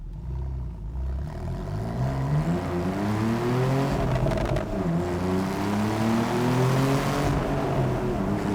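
Porsche 911 Carrera GTS 991.2 with a manual gearbox accelerating hard, its engine note climbing steadily through the gears with rising and falling harmonic sweeps, loud and continuous with no talking.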